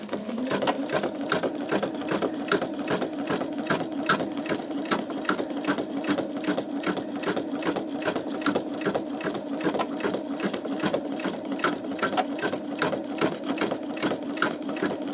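A sewing machine stitches along the edge of a leaf design on a greeting card, a close, steady rhythmic clatter of rapid regular needle strokes throughout.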